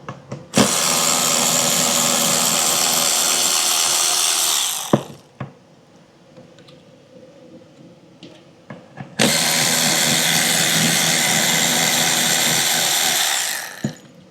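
Power tool spinning out bolts from a transmission valve body, with two long, loud, steady whirring runs of about four seconds each separated by a quieter gap with faint clicks and taps.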